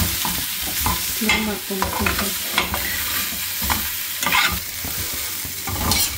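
Paneer fries in a non-stick pan, with a steady sizzle and repeated scraping stirs running close and loud throughout, plus a few brief spoken words over the cooking.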